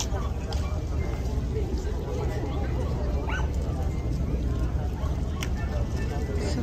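Dogs bark and yip amid dense crowd babble at a packed dog run during a dog event at Yokohama's Red Brick Warehouse, short barks standing out over steady chatter and background noise.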